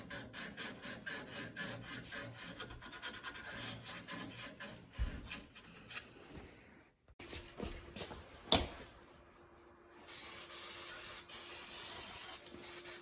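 Rusty brake parts being scrubbed clean by hand, with rhythmic rubbing strokes up close, a short pause and a sharp knock, then a steady hiss of spray.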